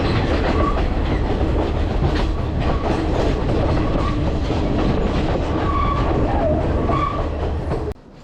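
A passenger train runs along the rails in Sri Lanka, a loud, continuous rumble with rhythmic clickety-clack of the wheels, heard from inside the car, cutting off abruptly near the end.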